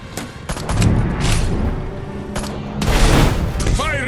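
Bursts of gunfire and booms from the Destroy All Humans! 2 Reprobed video game, set in the 1960s, fill the clip with dense continuous rattling and impacts, and shouting voices rise over the battle noise at several points.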